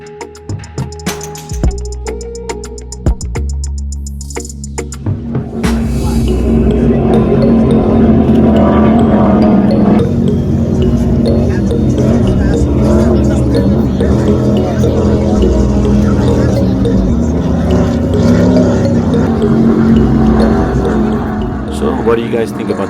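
Modified V-bottom race boats roar past on the water in a West Coast boat race, a loud sustained engine drone that builds after the first few seconds and holds, with people talking throughout.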